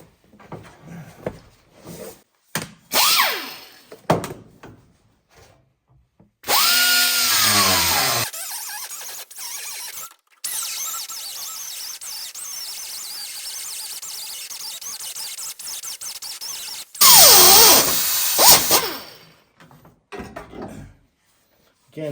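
A power tool cuts through the steel floor pan ends of a 1971 Chevy Nova, bursts of harsh whining and squealing grind alternating with pauses and softer handling noises, loud and close.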